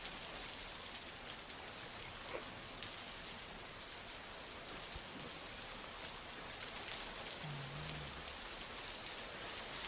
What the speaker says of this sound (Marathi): रत्नागिरी जिल्ह्याला मुसळधार पावसानं झोडपलंय।